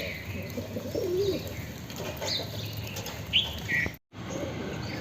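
A black pigeon flaps its wings and settles onto a rooftop, with a burst of wingbeats, soft cooing and chirps nearby over steady outdoor ambience, ending in a brief dropout.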